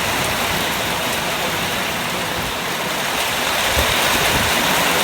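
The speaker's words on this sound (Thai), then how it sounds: "ก็มีฝนนะครับตกหนักมากครับวันนี้" Dense, steady roar of heavy rain pouring down, loud and unbroken throughout with no voices.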